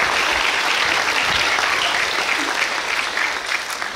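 A school audience at a Year 5 and 6 event applauds the staff and teachers with loud, sustained, dense clapping that fills the whole stretch and eases slightly toward the end.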